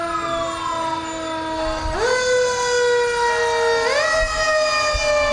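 A fire truck siren wails loudly and close at a St. Patrick's Day parade in Utica, its pitch sweeping up in repeated rises over a steady background, with no voices heard.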